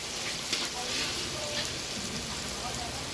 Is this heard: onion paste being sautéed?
yes